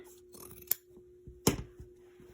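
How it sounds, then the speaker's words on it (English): Scissors trim bulky quilted fabric in a quiet room, with two sharp snips and a few softer cuts and rustles between them. "I am going to trim that down just to eliminate some of the bulk"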